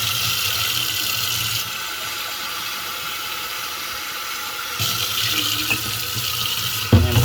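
Hot water runs from a tap into a jug in a steady splashing stream, with brief pauses and a clunk of the jug near the end, close by.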